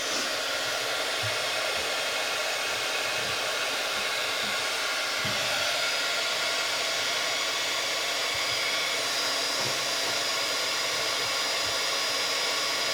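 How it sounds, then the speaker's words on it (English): A heat gun blows over white embossing powder on a snowy card, a steady, close, continuous airy roar with faint small clicks and bumps beneath it, and no talking. "I'm going to take my heat gun."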